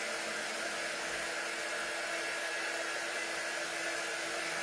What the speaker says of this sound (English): the COUTURE dryer is not as hot as some of the dryers